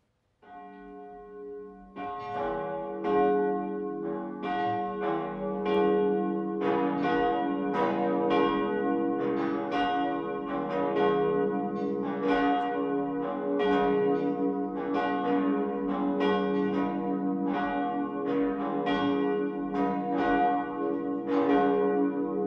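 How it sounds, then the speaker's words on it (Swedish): Cathedral church bells peal before Sunday high mass in Advent, a dense, continuous ringing of overlapping bell strikes with rich resonant tones that swell in quickly and carry steadily throughout. "Låt oss nu lyssna till klockringningen."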